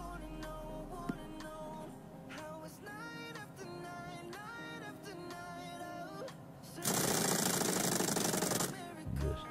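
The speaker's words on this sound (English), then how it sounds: "Now grab the drill again. Tighten everything up." Power drill in the Diesel Brothers PC game tightening bolts, a run of short mechanical whirs and clicks under background music, then a louder sustained buzz for a couple of seconds near the end.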